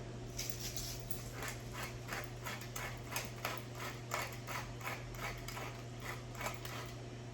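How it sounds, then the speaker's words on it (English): A pepper mill grinds black pepper close by with a quiet, rapid, rhythmic run of ratcheting crunches over a steady low background hum. "And freshly cracked black pepper."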